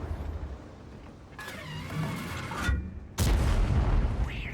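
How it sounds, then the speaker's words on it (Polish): Tank guns firing in World of Tanks, with an Italian Vipera tank destroyer in play: two sharp blasts with rumbling tails, the second louder and heavier, over low engine noise. "Ładny strzał w Skorpiona."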